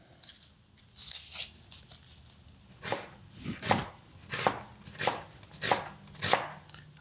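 A knife slices an onion into thin slices on a cutting board, giving about eight crisp, close, evenly paced cuts that quicken toward the end.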